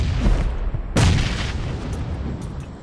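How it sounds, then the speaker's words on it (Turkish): Bomb blasts in the mobile battle-royale game PUBG Mobile, with a rumbling boom near the start and a louder, sharper explosion about a second in that fades over the next two seconds. "Bomba geldi. Patlamadan şu eğime geçmeye çalışacağım."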